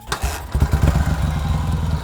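A motorcycle starts with a sharp clunk and then settles into a loud, close, rapid throbbing idle.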